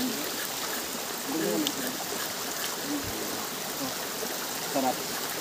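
Steady rushing water from a jungle waterfall and stream rolls on without pause, with faint voices talking quietly underneath.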